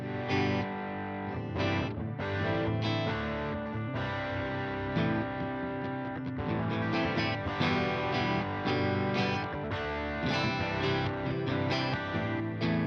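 Electric guitar played through a hot-rodded Marshall overdrive pedal on its Supersport side, giving a thick, saturated, distorted tone with sustained chords and riffs, loud and continuous throughout with no talking.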